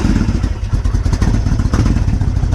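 A big classic Kawasaki Vulcan 1600cc V-twin motorcycle cranks and catches, its engine settling into a loud, close, steady low rumble with uneven thumping pulses and mechanical clatter throughout.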